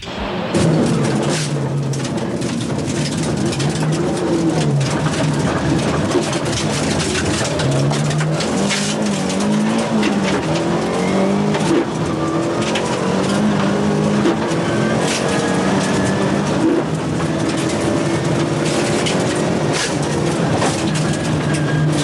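Proton Saga 4WD Turbo Group S rally car from 1992 driving hard, its engine a continuous loud drone with shifting pitch and gear changes, plus road and gravel noise throughout, no talk.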